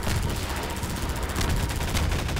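Sustained rapid gunfire from the Half-Life 2 video game, a dense continuous barrage of shots running through the whole moment at steady loudness, with no talking over it.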